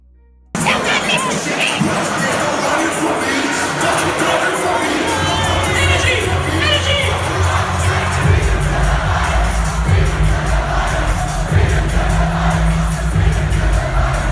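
A packed crowd at a concert at O2 Academy Brixton, London, roars and cheers continuously before the main act, a dense, loud wall of shouting and whooping with heavy bass underneath.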